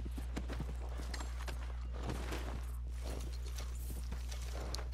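Horse hooves clip-clopping in Red Dead Redemption 2, a steady run of soft, close footfalls over constant low game hum, with no talking.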